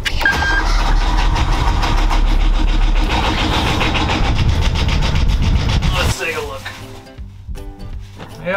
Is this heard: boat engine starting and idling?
yes